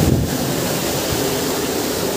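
A large waterfall roars in a loud, unbroken broadband rush, heard close with wind buffeting the microphone at the start.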